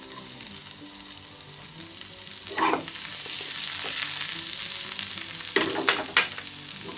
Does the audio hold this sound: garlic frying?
yes